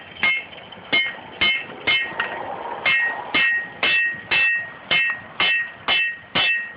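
A blacksmith hammering a metal scroll, about a dozen ringing, evenly spaced strikes close by, each clanging sharply and then fading, with a brief duller stretch partway through.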